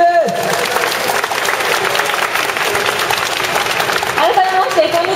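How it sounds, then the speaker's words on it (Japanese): A large crowd at a public live music taping breaks into sustained, dense applause welcoming a duo to the stage, with a host's voice speaking over the clapping near the start and end. "大きな拍手をお願いします。"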